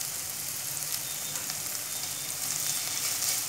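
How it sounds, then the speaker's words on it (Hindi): Potato wedges frying in a pan with green chili and garlic paste make a steady, dense close sizzle with a soft crackling texture, continuous and without talk. "मिक्स कर लेंगे इसे भी अच्छे से और इसे अच्छे से फ्राई होने देंगे"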